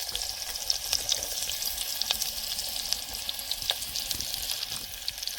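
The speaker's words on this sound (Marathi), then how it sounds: "आपलं तेल कडलेलं आहे तर त्याच्यामध्ये हा चिरलेला कांदा टाकूया" Chopped onion sizzles in hot oil on a village wood-fired stove, giving a steady close crackling hiss with scattered sharp pops throughout.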